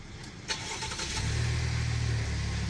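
A car engine turns over on a cold morning and settles into a steady, low idle as it begins to warm up, fairly close and with no one talking.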